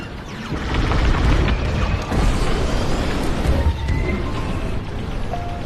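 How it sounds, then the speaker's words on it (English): Loud, dense explosions and crashing booms from Star Wars Squadrons space combat, a continuous roaring barrage with heavy low rumble and scattered sharp bursts and metallic debris, close and sustained. "Blow that up!"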